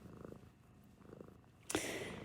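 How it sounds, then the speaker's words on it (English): Recorded cat purr played back as a low, soft rumbling drone in pulsing waves, quiet and steady, with a brighter burst near the end. "just because you hear the purr, remember there's not a cat on you"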